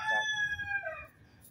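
A cocoa-coloured bantam rooster from an Ayutthaya farm gives a single clear, close crow lasting about a second, its drawn-out tone falling away at the end over low background rumble.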